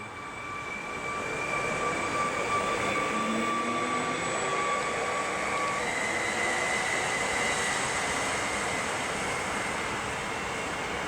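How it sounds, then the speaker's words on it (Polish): A train pulling out of Warszawa Młynów railway station gives a broad, steady rumble with high whining tones that shift in pitch, swelling after the first second and holding loud throughout. "i znika pociąg w oddali."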